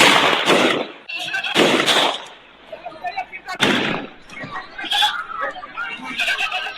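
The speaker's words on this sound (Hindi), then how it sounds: "कैसे बेखौफ बदमाश एक के बाद एक फायरिंग करते नजर आ रहे हैं" Gunfire from men shooting in Kanchanpur village in Mainpuri comes as several sharp, loud bursts with pauses between them, and voices talk over the shots and the gaps.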